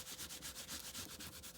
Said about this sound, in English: just to wipe them down so you don't get them all stained.